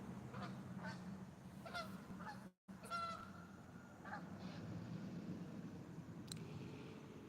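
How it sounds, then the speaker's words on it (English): Geese honk faintly from high overhead in flight, sending scattered calls over a steady low hum of background noise. The honks come in a loose irregular series and then fade into the distance. "The geese are flying high."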